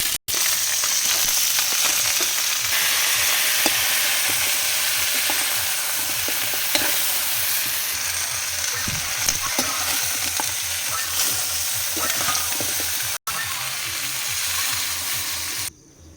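Chopped onion and garlic sauté in hot oil with a loud, continuous crackling sizzle and occasional stirring scrapes, heard up close for a long stretch with no talking.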